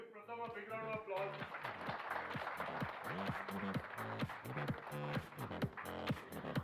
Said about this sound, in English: Give Pratham a big round of applause.